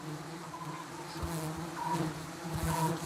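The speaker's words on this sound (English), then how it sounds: "smoke has been used as a means to control honeybees" A honeybee colony being smoked buzzes in a thick, continuous drone of many wings, layered humming tones rising and falling close to the microphone with no voices.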